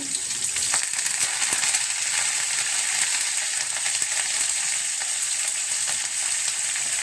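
Curry leaves fry in hot tempering oil, giving a steady, close sizzle and crackle that lasts throughout with faint stirring and no talking.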